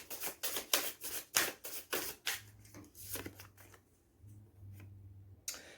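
Tarot cards being shuffled in a quick series of crisp, close slaps and riffles, then softer handling as a card is drawn over a faint low hum, with no talking.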